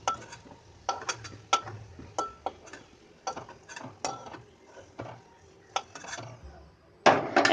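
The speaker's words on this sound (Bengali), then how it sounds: "এখন আলুর টুকরোগুলোকে একটা পাত্রে তুলে নেব।" Fried potato pieces being scooped from a pan into a bowl, with a run of light metallic clinks and scrapes of utensil on cookware, spaced irregularly, close up, ending in a brief louder clatter.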